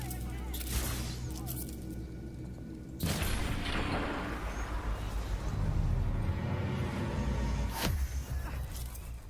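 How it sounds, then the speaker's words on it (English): Gunfire in the video game Dishonored: Death of the Outsider, bursts of shots and booming impacts over a rumbling, noisy game soundscape, with a louder dense stretch in the middle. "Someone shooting at us!"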